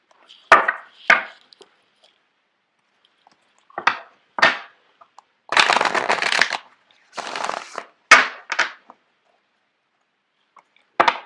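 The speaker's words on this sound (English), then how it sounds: "I'm going to shuffle out the cards for you guys" Tarot cards are shuffled in short, crisp bursts of riffling and slapping separated by silent pauses, with one longer run of continuous shuffling near the middle.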